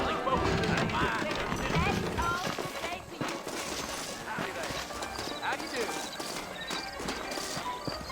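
Horse hooves clip-clop in a steady rhythm in Red Dead Redemption, under overlapping speech and other game sounds, with occasional distant bangs.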